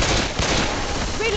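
Rapid Uzi gunfire in a video game, a dense burst of close, harsh shots layered over each other across the whole short moment.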